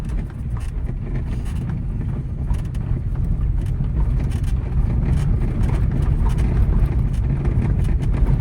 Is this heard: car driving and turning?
yes